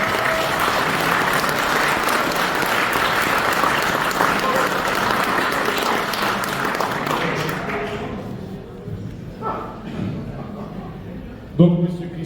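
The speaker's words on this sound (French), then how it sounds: "Je crois qu'on peut applaudir avec toutes ces équipes." A crowd applauds the organizing teams at a Circuit des Ardennes cycling stage ceremony in Rethel, sustained loud clapping for about eight seconds that then thins out as a voice over a speaker system resumes.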